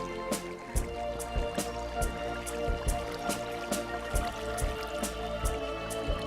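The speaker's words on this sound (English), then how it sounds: "It is flowing water." Flowing water in the Minecraft mod Terrafirmacraft during gold panning: a steady trickle with evenly spaced drip-like splashes, close and moderately loud over a constant tonal background.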